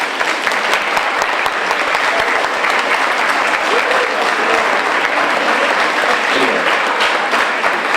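A seated audience at a philosophy day event in Braga applauds steadily and loudly, a dense wash of many hands clapping together with no break.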